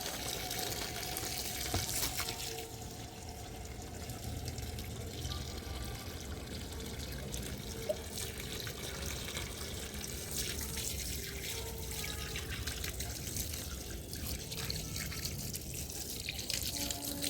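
Muddy water being poured onto soil outdoors, a continuous soft splashing and trickling that runs steadily at moderate level with faint background noise and occasional voices.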